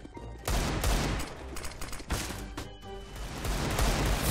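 Gunfire in Counter-Strike: Global Offensive during a headshot kill: loud, heavy shots crack out in quick succession, with strong blasts near the start and midway and dense reverberant booms throughout.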